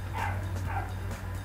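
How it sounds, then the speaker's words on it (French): A dog barks twice in quick succession indoors, somewhat distant and muffled, over a steady low electrical hum. "excusez-moi pour le chien si vous les entendez"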